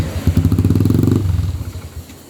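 A Motorstar 100 motorcycle engine with a stalling fault runs close by with a rapid, loud chugging beat, then slows and dies out, leaving quiet background.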